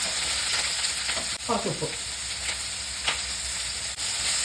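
Four finely chopped onions fry with garlic, a large piece of ginger, curry leaves and three green chillies for chicken kurma, giving a continuous close sizzle with occasional stirring scrapes. A voice speaks briefly over the frying.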